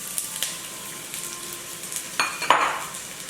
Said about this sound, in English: So here first I'm gonna add my onions,